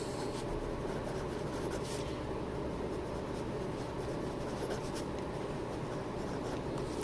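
Steady scratchy rubbing of a fountain pen nib across paper, continuous and close, with no pauses or voices.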